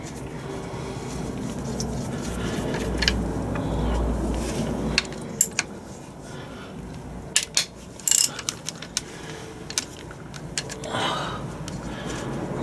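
A ratchet socket wrench clicks in bursts while undoing stuck gearbox bolts on a Land Rover Defender TD5 R380, with sharp ratcheting clicks and clanks over a low, steady background.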